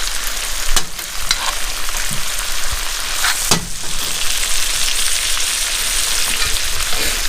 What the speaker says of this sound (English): And just keep on sauteing it with the garlic and butter.